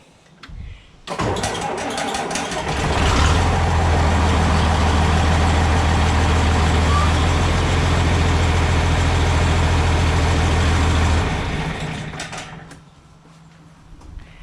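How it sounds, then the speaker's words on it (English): A first-year John Deere 4230 tractor fitted with a 145 loader starts up and runs, a steady loud diesel rumble and clatter holding for several seconds before dying away, with no talk over it. "she's rough around the edges, but she's a good old tractor"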